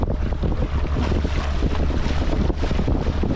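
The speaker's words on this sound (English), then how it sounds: "Cruising in the Indian Ocean." A boat cruising on the Indian Ocean off Mombasa, Kenya, with strong wind buffeting the microphone over a low, continuous rumble of hull and water, loud and steady with no voices.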